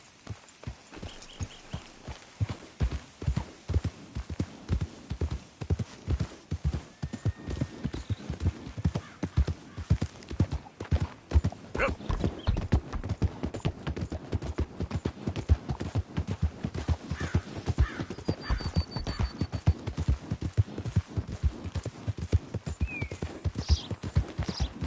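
Horse hooves clip-clopping in Red Dead Redemption 2: a steady stream of close, rhythmic hoofbeats that starts sparse and settles into a brisk, even pace throughout.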